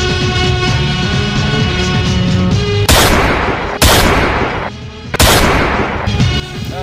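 Gunfire in a comedy fight scene: three sharp, loud shots at irregular intervals over background music and effects.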